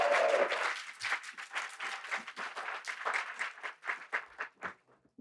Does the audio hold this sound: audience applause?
yes